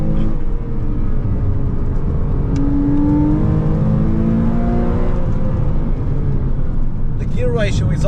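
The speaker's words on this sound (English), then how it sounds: "So now let's just floor it and have some fun." A Porsche 987.2 Cayman S runs at full throttle with a droning, rising engine note that climbs in pitch through the run, heard from inside the car amid heavy noise that suggests a voice.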